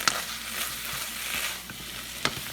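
Cauliflower is stirred in a pan with ghee and garam masala, producing a close, steady frying hiss punctuated by a few sharp utensil scrapes and taps.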